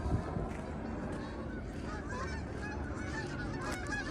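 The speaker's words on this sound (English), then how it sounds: "some ducks are flying over me right now, right as we're talking about this. Or there could be some Canadian geese." Canada geese honk as they fly overhead, giving a steady stream of fairly faint, scattered calls against outdoor background noise.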